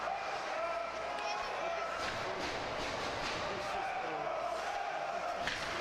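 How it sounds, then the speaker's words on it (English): Arena crowd at an ice hockey game between the Stettler Imperials and Wainwright Rustlers cheers steadily throughout, a dense, continuous roar of many voices with scattered louder shouts, as Stettler keeps pressure in the offensive zone. "Crowd cheering on Stettler as they're putting on nothing but pressure."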